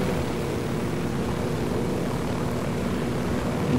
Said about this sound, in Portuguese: Que helicóptero esquisito de pilotar, cara.